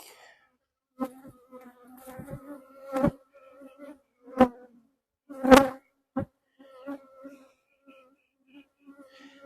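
Honeybees buzz close by while a beehive is opened for an October inspection, with several separate droning passes rising and fading, a few sharp clicks, and near silence between them.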